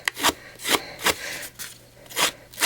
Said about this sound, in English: I'm going to take my snips and I'm just going to rough the edges.